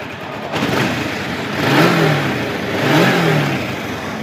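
A 2006 Kawasaki Ninja 500 sport bike engine revs up and settles in two swells, loud and close with a steady mechanical drone, no voices.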